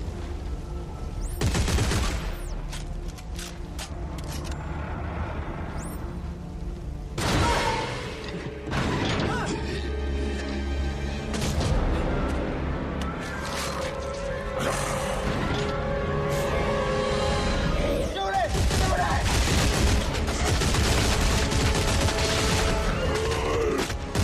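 Weapons fire in Dead Space 3 comes as a string of heavy shots and crashes mixed with clanking, ratcheting mechanical noise, loud and dense across the whole stretch, with brief gaps between bursts.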